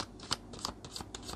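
Tarot cards shuffled for a love reading, giving a few quiet papery riffles in short bursts about every third of a second, soft and close with no voices.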